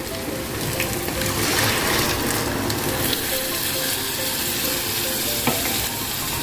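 Meat curry being sautéed and stirred in a pan: a loud, continuous close-up sizzle with bubbling and scraping stir strokes running throughout, no talking.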